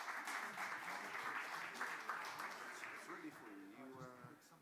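An audience applauding a professor introduced at a European Jewry event, faint scattered clapping that fades as a voice begins speaking near the end.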